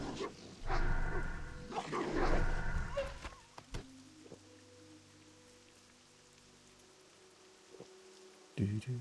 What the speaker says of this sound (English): Little rainy, drizzly day here in Bellwood.